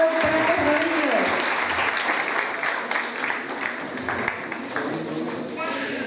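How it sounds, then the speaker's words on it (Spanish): A crowd at a children's dance event in Vichadero gives warm sustained applause for Nicole Prates Rodríguez, dense clapping that slowly thins, with a voice over a loudspeaker at the start. "Fuerte el aplauso para Nicole Prates Rodríguez."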